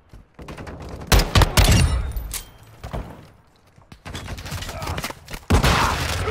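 Bursts of gunfire in Call of Duty Modern Warfare 2, with loud volleys of rapid shots coming in separate clusters and short pauses between them, plus brief talk in between.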